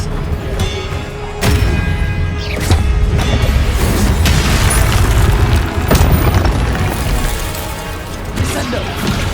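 Expelliarmus spell cast in Hogwarts Legacy combat, heard as sharp booming magical impacts and crashes repeating through a busy battle, with a voice calling out spells.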